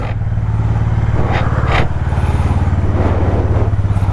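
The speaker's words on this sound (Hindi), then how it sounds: "चलो जी, बाइक भी वार्म अप हो गई है" A 2023 Honda CB 350 Highness DLX Pro motorcycle idles up close while warming up, a loud steady throbbing engine note with one brief dip partway through.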